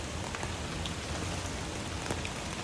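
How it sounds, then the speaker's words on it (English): Heavy rain lashing down in Sydney, a dense, even roar of drops close by with scattered louder patters, continuous and unbroken with no voices. "lashing with rain"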